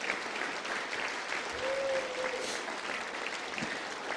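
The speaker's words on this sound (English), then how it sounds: "another round of applause for both Mary and Charlie" Dinner guests at a Cardinal Cushing reunion dinner applaud Mary and Charlie, a soft, steady patter of many hands heard from a distance in a large room, with a brief tonal whistle partway through.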